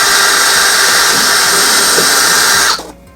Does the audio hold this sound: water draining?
no